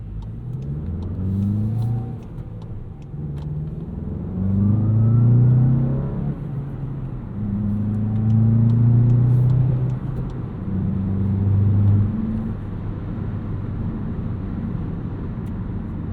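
A 2025 Volkswagen Jetta GLI with a manual gearbox pulls through city streets, its engine rising and falling through several rev-ups and shifts, a steady cabin-heard drone between gears with no talking.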